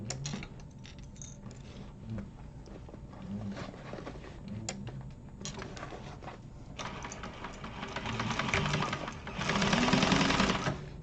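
A sewing machine runs a second row of stitching on a bag, with a close, rhythmic mechanical clatter that comes in bursts and builds to a louder sustained run near the end.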